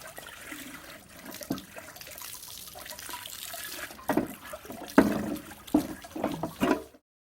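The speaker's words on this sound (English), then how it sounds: "take out the piece and wash it with water or a soft sponge to remove some rust" A rusty metal piece from a WW2 German MG42 ammunition box is rinsed under water, giving a continuous splashing, trickling wash with several louder sloshing bursts toward the end before cutting to silence.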